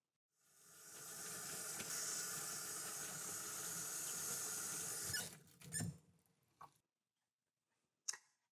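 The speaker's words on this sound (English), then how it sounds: "I'm going to go wash my hands" Hands washed at a sink during a nursing care routine: steady running water streams for about five seconds, then stops, followed by a few faint clunks and a squeak.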